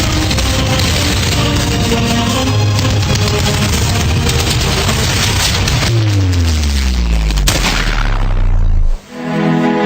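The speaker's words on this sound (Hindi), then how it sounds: "मेजर करण राजवीर सिंह, कवर फायर दो इसे।" Covering gunfire in a war battle scene with Indian soldiers: dense, loud, continuous booming and rumbling with rapid bursts and a tonal sweep, cutting off abruptly near the end.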